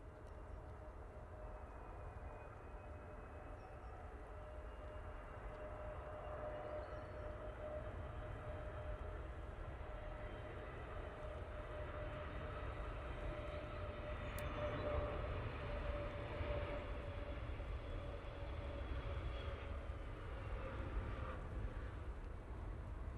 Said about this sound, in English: Very nice landing there from the SAS.